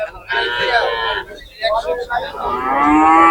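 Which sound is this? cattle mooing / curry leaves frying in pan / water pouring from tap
cattle mooing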